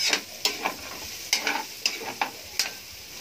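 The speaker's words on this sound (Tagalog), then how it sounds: "Halo-halo lang natin. Hanggang sa maluto yung sibuyas at saka bawang." Onion and garlic sautéing in a pan for adobong sitaw, stirred with a utensil that scrapes and clicks in sharp bursts over a light sizzle, close and without speech.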